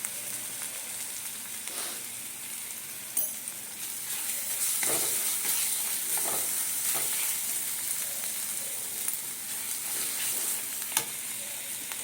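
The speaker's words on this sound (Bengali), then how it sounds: "কত রকমের আওয়াজ দিচ্ছে গোলমরিচের গুঁড়ো" Ground black pepper and spices sizzle steadily in a hot frying pan while an egg korma is being cooked, a continuous bright hiss broken by scattered crackles and pops, with no talking.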